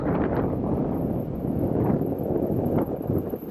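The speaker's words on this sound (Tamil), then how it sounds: "காற்று பயங்கரமாக அடிக்குது" Strong wind in Ladakh buffets the microphone during a ride in a steady, rumbling rush, with low gusty surges throughout.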